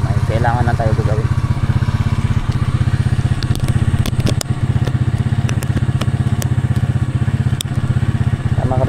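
A motorcycle carries riders on a road trip. Its loud, steady engine drone runs throughout, with scattered clicks and rattles and a brief voice near the start.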